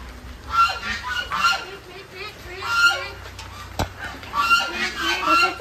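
Ducks call repeatedly nearby, loud nasal quacks and honks overlapping in irregular bursts throughout, with a sharp click midway.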